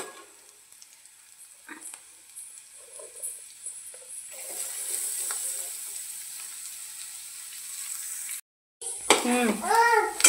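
Boiled potatoes, chillies, curry leaves, a little sugar and onion frying in a pan give a thin, steady hiss that slowly builds, with faint clinks, then a brief cut and close talking voices at the end.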